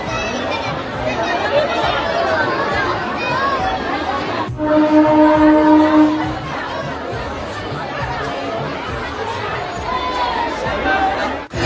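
Dense crowd chatter fills Kalyani station on a busy Durga Puja night, a steady hubbub of many voices with a brief tonal sound standing out midway, continuous and close throughout.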